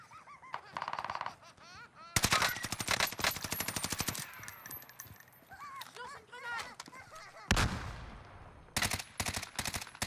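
Gunfire in Warzone Pacific crackles in a rapid, dense volley, then in shorter separated bursts, loud and close, with people talking between the shots.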